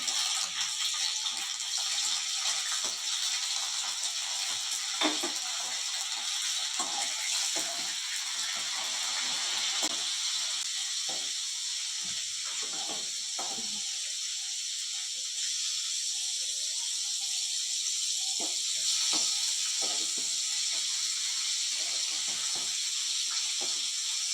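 Brinjal frying in oil for an oil brinjal curry, a steady bright sizzle and hiss that runs throughout, with faint crackles and soft stirring knocks underneath.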